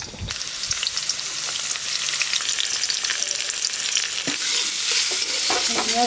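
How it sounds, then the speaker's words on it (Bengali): Chopped onions and cashews fry in hot oil in a wok-style kadai, a loud, continuous crackling sizzle with scraping stirs from a spatula, close up and without any talk. "এবার আমরা যে কুচনো পেঁয়াজটা ভেজে নেব, ওর সঙ্গে কাজুটাও দিয়ে দেবো"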